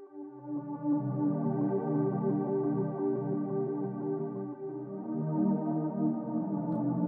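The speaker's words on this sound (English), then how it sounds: "I've got a cirrhum pad that without any effects sounds like this" A Serum synth pad with no effects holds a sustained, droning chord with a slow attack, rich in stacked harmonics, alone and steady throughout with slight swells.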